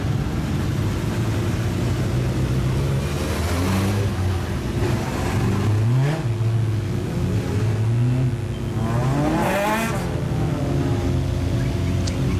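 National Fours race cars roll out onto the dirt oval at Gympie Speedway, engines revving and droning loudly throughout with rising and falling pitch as the cars pass, no voices.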